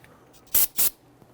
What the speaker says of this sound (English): Give that a quick spray with some solvent.